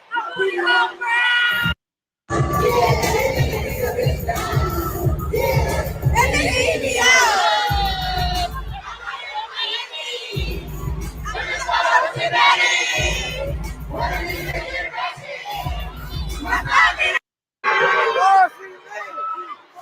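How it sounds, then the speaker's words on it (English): Loud concert crowd at a birthday bash show, cheering, shouting and whooping continuously with heavy bass music pounding underneath, brief dropouts, and nearby voices chattering over the din. "You hear the crowd?"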